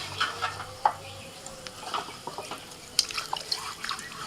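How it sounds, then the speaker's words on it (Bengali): Clay cups set in water for washing give faint bubbling, sipping drips and small clinks nearby, soft and intermittent over a quiet room. "জলে দিতেই কেমন হুড় করে জলটা টানছে, চুমো চুমো করে একটা আওয়াজ উঠছে।"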